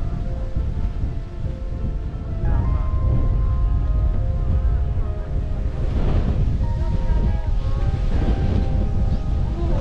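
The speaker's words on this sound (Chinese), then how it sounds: "风很大，今天早上。" Strong wind buffets the microphone on a beach in Okinawa, a loud steady roar with surf washing in beneath it and a faint voice now and then.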